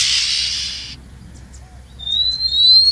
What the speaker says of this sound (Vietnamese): mình nên phục vụ cho anh em một chú chòe than mộc dở anh em nhé